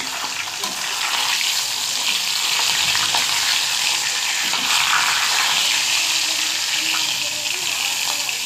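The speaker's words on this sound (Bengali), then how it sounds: "দেখো বন্ধুরা, আমার মাছটা ভাজা হয়ে গেছে।" Fish pieces frying in hot oil in a pan while cooking a fish-head dish, giving a steady, loud, close sizzle and crackle that runs throughout.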